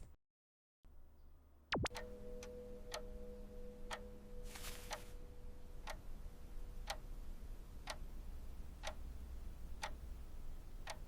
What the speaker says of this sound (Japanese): このチクタクという時計の音もジェミニが作ってくれました